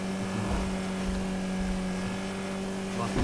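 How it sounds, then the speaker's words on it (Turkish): Car engine in GTA 5 straining hard while climbing a steep mountain road, a steady droning hum with a constant tonal whine, loud and close, no talk over it. "Arabanın sesini duyuyorsunuz. Yırtılıyor araba."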